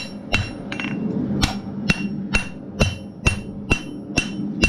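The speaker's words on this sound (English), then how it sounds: "now maybe I can hammer without hitting things" Steady, evenly spaced hammer blows ring out on a railroad spike being shaped into a knife, each strike sharp and close with a bright metallic ring, about two per second.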